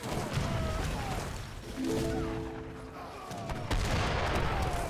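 Mortar artillery booms during an Age of Empires III battle: dull, muffled blasts and crashes over a dense din of gunfire and combat noise, fairly quiet and distant.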